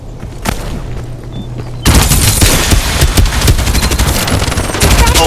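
Gunfire in the mobile shooter Farlight 84: a single shot, then a sudden burst of dense, loud automatic fire that rattles on continuously with echoing booms.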